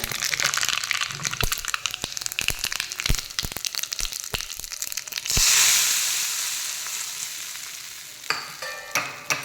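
Cumin and mustard seeds crackle and spit in hot oil as a tempering for appe batter, with sharp pops in the first seconds, then a loud steady sizzle that swells and slowly fades.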